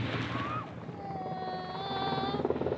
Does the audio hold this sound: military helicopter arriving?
yes